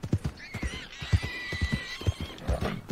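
A horse ridden in Red Dead Redemption 2 on the trail toward Mount Shann, with steady, close clip-clop hoofbeats under a long, clear whinny, and no voices.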